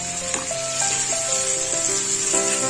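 Fish roe fritters go into a pan of milk-based gravy and sizzle with a steady, soft hiss, punctuated by faint clinks and stirring sounds throughout.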